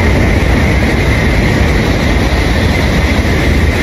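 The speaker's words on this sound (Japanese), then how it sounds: "さあ、新幹線やってきました。こちら N700A ですね。" A Shinkansen N700A bullet train rushes past at high speed at Nishi-Akashi station, a loud, close, continuous roar of wind and rail noise filling the whole stretch without any voices.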